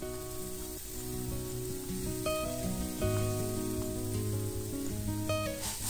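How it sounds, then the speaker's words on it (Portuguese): Six cloves of chopped garlic fry with browning angel hair pasta in a pan for rice with pasta, a steady close sizzle running throughout with no talk. "E eu vou fritar esse alho até o macarrão ficar bem marrom."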